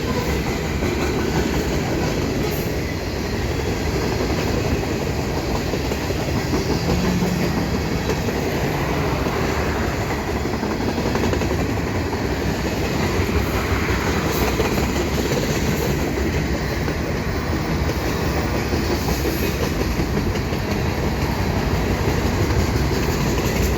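Freight train hauled by Dash 9 locomotives passing at Milepost 75 on the Dundas Sub in London, Ontario, a loud steady rumble with clickety-clack of wheels over rail joints and occasional squeal, close by throughout.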